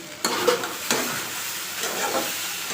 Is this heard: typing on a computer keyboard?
no